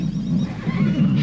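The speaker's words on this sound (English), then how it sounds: "Riding, herding and trapping horses, just as these Mongolian tribesmen do today." Horses neigh and whinny in a steady, loud run of calls, set among Mongolian tribesmen riding, herding and trapping horses, with low rumbling underneath.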